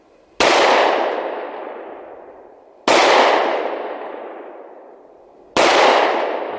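Three sharp, loud pistol shots from a Smith & Wesson SD40VE fired at soda cans, spaced a couple of seconds apart. Each shot has a long ringing decay, and no one talks.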